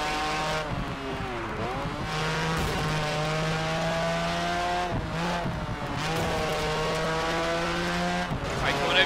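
Racing car engines in the video game Project Gotham Racing 4, a loud sustained whine that rises and falls through repeated gear changes, with tire squeal near the end and a voice talking over the race.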